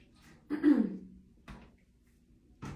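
A person clears their throat from a tickle, one strong rasping burst followed by two shorter, softer throat sounds spaced about a second apart, close and with no talking.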